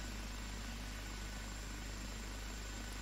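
Turbine engine of an OH-58D helicopter spooling toward full throttle, heard as a faint, steady whine and low rumble that holds level throughout, with no voices.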